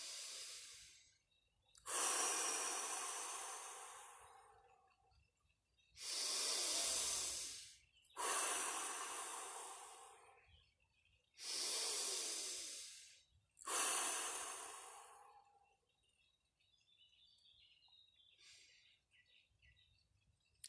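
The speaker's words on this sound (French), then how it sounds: "Vous faites 3 respirations profondes." Five deep breaths in a guided relaxation and breathing exercise, each a long, loud, airy whoosh lasting a couple of seconds with short quiet gaps between, close to the mic and with no talking.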